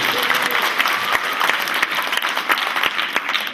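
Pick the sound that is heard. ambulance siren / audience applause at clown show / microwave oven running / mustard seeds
audience applause at clown show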